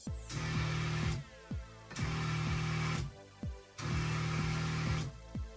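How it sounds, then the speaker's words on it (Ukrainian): Hyundai GS 1612Li cordless garden sprayer's electric pump motor switching on and off three times in even bursts of about a second each, a steady mid-pitched whir with short clicks between runs, close and loud with no talk. "Натискаючи на важіль вимикача, автоматично вмикається двигун."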